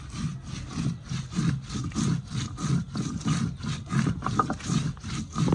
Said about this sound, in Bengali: এখানে পেঁয়াজও বেটে নিলাম আর রসুন পাতা বাটতেছি